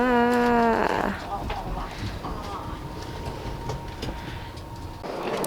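A sleeper train's loud horn blares at the start on arrival in Chiang Mai, then a steady rumble of rail cars and clattering fills the rest, with faint voices underneath.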